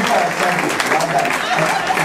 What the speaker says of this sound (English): give Jason a big round of applause, please